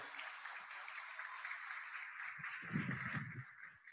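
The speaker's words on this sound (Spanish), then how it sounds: "Vamos a ofrecerle un fuerte aplauso" Applause from an audience at a formal handover ceremony for Peru's health ministry, a steady wash of clapping heard at moderate level, with a brief burst of louder low rumble near the end.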